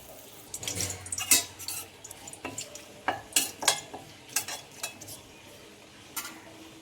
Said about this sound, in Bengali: গরম তেলের মধ্যে অ্যাট ফার্স্ট 2টো তেজপাতা দিয়ে দিচ্ছি